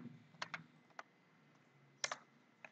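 Sparse keystrokes on a computer keyboard while typing into a browser: a few quick clusters of light clicks with pauses between them, faint and close in a quiet room, with no talking.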